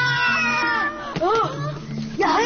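A cat meows twice, short rising-falling cries close by, with a musical tone running underneath between them.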